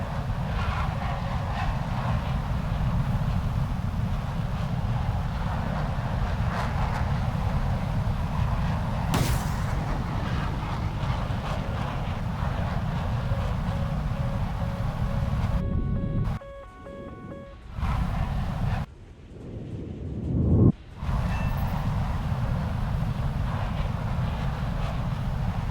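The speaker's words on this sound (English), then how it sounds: "Here I waited a good while before firing my missiles" Fighter jet in a combat video game, the Viper, with a steady loud engine roar throughout, broken by brief launch bursts and sharp gaps where missiles are fired near the end.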